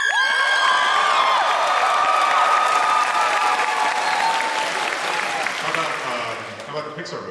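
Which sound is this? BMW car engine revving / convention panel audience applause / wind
convention panel audience applause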